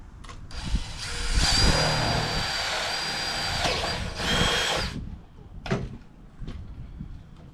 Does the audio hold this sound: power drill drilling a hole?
yes